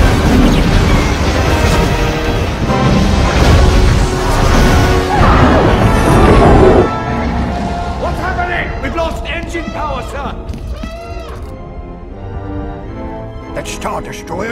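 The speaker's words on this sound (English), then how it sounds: "Gold Leader. Ion torpedoes away." Ion torpedoes fired at a Star Destroyer during a Star Wars space battle over Scarif: loud booming blasts and crashing impacts under a dense orchestral score, settling into sharper bursts and sweeping zaps later on.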